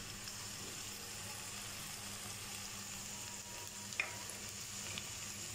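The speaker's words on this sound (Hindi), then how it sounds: "प्याज हमारी लाइट ब्राउन हो चुकी है, अब मैं इस पर अदरक लहसुन का पेस्ट डाल दूंगी।" Onions frying until light brown as ginger garlic paste goes into the pan for a potato vegetable sabzi, a steady close sizzle with a small clatter, no voices.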